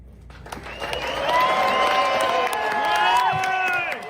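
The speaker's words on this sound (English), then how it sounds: "Listen for the crowd." Spectators on the 18th green at Black Desert Resort golf course erupt in cheering and whooping with clapping, swelling quickly to a loud, sustained roar of many voices before easing near the end.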